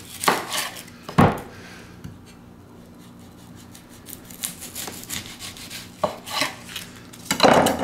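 A knife saws and chops through the ends of a large yellow onion on a board, with scattered close knocks and rasping strokes separated by quieter handling sounds, and no speech.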